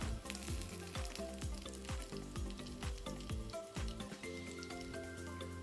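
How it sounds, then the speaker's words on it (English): Chicken shami kebabs shallow frying in a pan over a low flame, a steady close sizzle of hot oil with repeated sharp crackles and pops, no voices over it. "We are doing a shallow fry."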